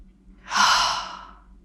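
A person takes a single full, slow breath in and out during a foot-massage session. The soft airy exhale swells and fades in close, quiet surroundings.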